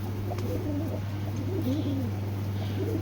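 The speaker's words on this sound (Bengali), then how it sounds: "খুবই সুন্দর কবুতরগুলা" Giribaz pigeons, a brown-necked pair with young, coo softly in repeated low warbling phrases over a steady low hum, close by and without talk.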